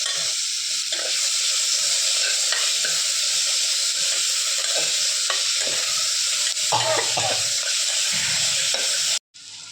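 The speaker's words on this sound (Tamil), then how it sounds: "எடுத்து வச்ச தக்காளியும் போட்டுக்கிறேன் எல்லாம் கொஞ்சம் குழைய வேகட்டும்" Tomatoes for varagu rice kichadi sizzle and hiss steadily in a hot pan, with intermittent scraping and stirring sounds close by, ending in a brief pause.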